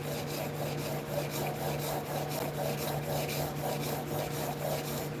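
A hand plane blade rubbed back and forth on 400 grit wet stones, an even run of rapid gritty scraping strokes with a low steady hum underneath.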